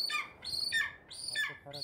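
A golden eagle used for hunting in winter Kyrgyzstan gives repeated high, piercing cries, about four shrill descending calls in quick succession, fairly close and clear over a quiet background.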